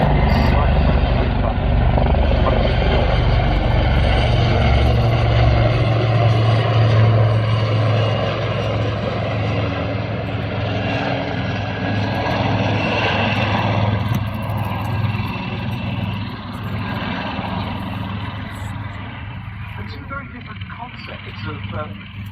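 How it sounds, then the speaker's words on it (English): Westland Wasp and Wildcat shipborne helicopters fly at an RAF Cosford airshow, a steady loud rotor and engine drone with low throb continuing throughout under announcer talk. "the WASP dating from the 1950s, and the Wildcat very much the shipborne helicopter of today."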